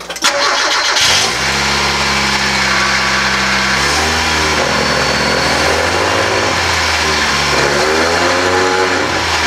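A Mazda Miata engine runs in gear with its driveline spinning, recorded close and loud from underneath the car. It catches and settles into a steady hum, and the pitch rises and falls a few times.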